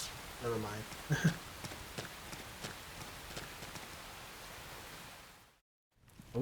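Steady rain falls in the video game Xenoblade Chronicles X, a continuous broadband hiss with scattered hoof-like clops and brief game effects, cutting out for a moment near the end.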